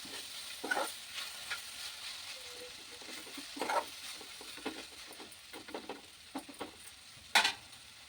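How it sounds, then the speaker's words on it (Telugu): Drumstick leaves with turmeric frying in a pan, a soft steady sizzle broken by several sharp scraping stirs, quiet and close with no talk. "కొద్ది పచ్చివాసన వేయేంత వరకు వేయించుకోవాలి"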